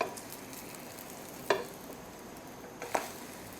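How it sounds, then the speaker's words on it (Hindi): Egg paratha fries in oil in a pan with a soft, steady sizzle. Two brief sharper crackles or stirring clatters stand out near the middle and the end. No one speaks. "थोड़ा सा ऑयल में डालूँगी, इसी तरह इसको फ्राई कर लेंगे।"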